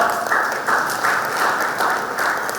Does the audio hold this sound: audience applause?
yes